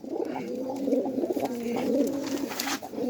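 Captured pigeons kept in a home loft coo in low, throaty, repeated phrases, close and clear, with a few faint higher chirps and rustles in the background.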